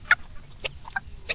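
Chickens being fed give short, sharp clucks, a few scattered calls close by over quiet background, with no talk.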